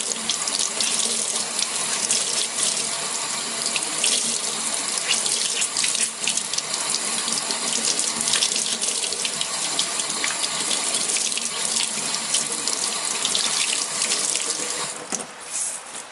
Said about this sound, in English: now I'm just going to rinse it under water